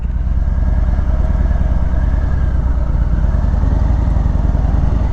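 A 2019 Harley-Davidson Breakout 107 motorcycle engine rumbles steadily and loudly at close range throughout, a deep continuous throb while riding with no pauses and no talking.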